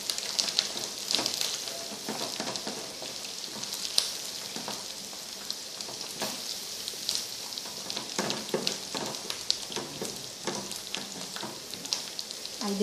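Farofa with margarine and egg being stirred in a pan, a steady broadband sizzle with scattered scraping clicks from the spoon running throughout, close and continuous, no talk.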